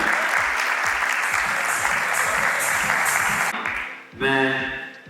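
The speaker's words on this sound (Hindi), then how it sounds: "जोरदार तालियां उनके लिए हो जाएंगे" Loud applause from the crowd at a corporate award night in Surat, dense clapping with a rhythmic music beat underneath, fading out near the end as a voice begins speaking.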